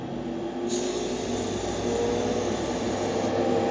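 A steady, broadband airy roar of a spray booth fan runs continuously, loud and close, with no talking.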